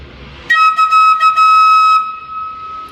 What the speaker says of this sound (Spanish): Y esto es lo que hace el efecto de la flauta armónica.